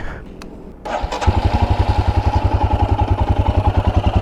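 A Royal Enfield Himalayan BS6 motorcycle engine cranks and catches, then settles into a loud, steady idle with a rapid, even exhaust thumping pulse close by.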